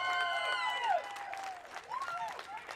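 A crowd applauds the race winner at Mid-Ohio after an Indy Pro 2000 race, a steady wash of clapping that runs throughout while an announcer's voice talks over it.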